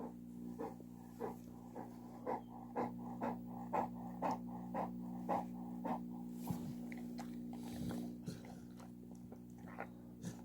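A dog pants heavily in a quick, steady rhythm of harsh breaths nearby, over a constant low electrical hum, trailing off into shuffling near the end.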